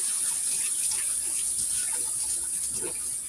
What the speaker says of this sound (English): rinse the spatula off that I was just using